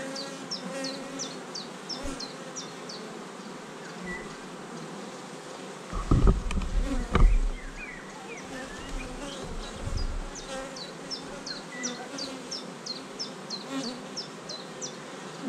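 Dense, steady buzzing of many honey bees close by at an open hive, with a few louder thumps and handling knocks midway.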